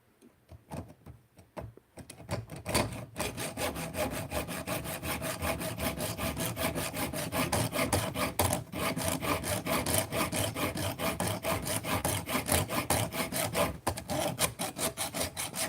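Hand saw blade, lubricated with coconut oil, cutting through wood for a bracelet in steady rapid rasping strokes that continue loud and close after a brief quiet start.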